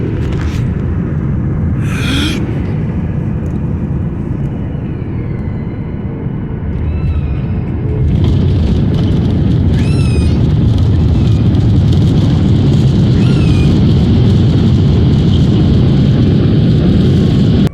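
An airplane landing at Denver International Airport fills the cabin with a loud, steady engine and air roar that swells further in the second half, with faint higher tones and chimes drifting above the rumble.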